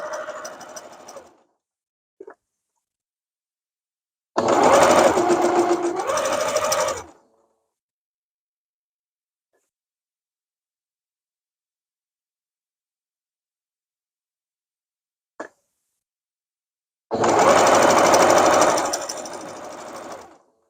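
A sewing machine stitches a quilt block seam for a pieced heart block in three separate bursts, each a couple of seconds long and fairly loud, with quiet gaps and a few faint clicks between them.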